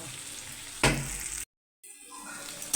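Onions frying with salt in a pan for bottle gourd prawn curry, a close hissing sizzle with a brief stirring scrape, cut by a short gap of silence.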